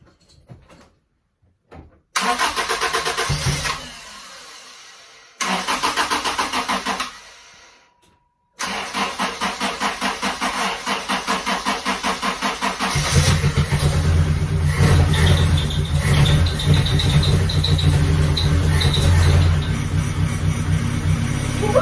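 A Honda Civic with a newly replaced fuel pump and a disconnected exhaust cranks in short bursts, then fires up and settles into a loud, steady idle that grows rougher and louder near the end, with no talk over it.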